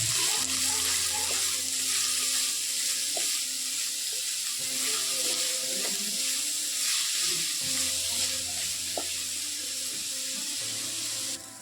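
Onions sizzle steadily in a pan of hot oil with chopped chillies, a continuous bright frying hiss broken by a few clinks and stirring scrapes, close and fairly loud throughout with no talking.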